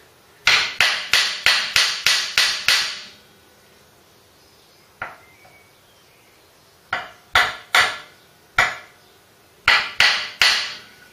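A hammer taps metal on a Mk3 Cortina during a classic car restoration: a quick run of about seven sharp ringing strikes, a single lighter tap, then scattered pairs of loud hits, close and clear in a quiet workshop.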